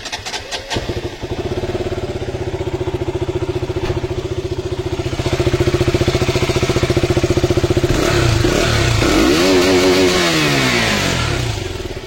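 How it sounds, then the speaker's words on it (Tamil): A motorcycle engine starts and idles with a steady throbbing rumble, then revs up and down several times, loud and close. "பைக்கோட சவுண்ட் கேளுங்க"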